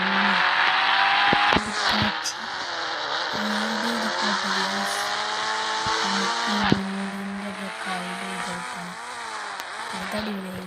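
A motorbike engine in a video game with an Indian bike drones steadily with shifting revs, dipping briefly early on, then holding a continuous, fairly loud whine.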